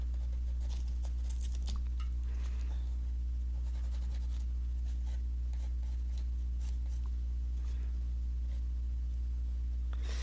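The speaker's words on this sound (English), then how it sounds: "what I'm finding with the pencil is because the tissue paper, napkin paper, has some texture to it" A pencil writes on textured tissue napkin paper, making faint, intermittent dry scratching strokes over a constant low hum.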